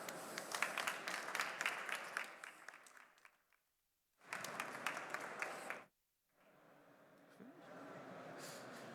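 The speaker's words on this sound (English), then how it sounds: "Please give another round of applause." An audience at a social innovation summit applauds in bursts, with steady clapping that breaks off to near silence, comes back briefly, then returns as a softer patter. The whole thing sounds fairly faint and distant.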